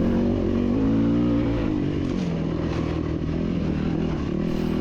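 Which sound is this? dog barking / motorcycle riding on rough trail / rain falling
motorcycle riding on rough trail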